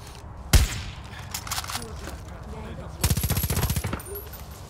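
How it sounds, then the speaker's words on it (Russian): Gunfire in the video game Far Cry 5: a sharp single shot, then a scattered shot or two, followed by a rapid rattling burst of automatic fire, with some quiet speech in the gaps. "Так, а кто стрелял по нам?"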